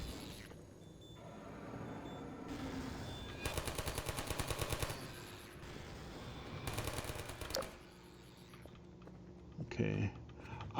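Automated turret gunfire in Half-Life 2 RTX, rapid bursts of rattling shots coming in several separate volleys between stretches of game ambience, with a person talking in places.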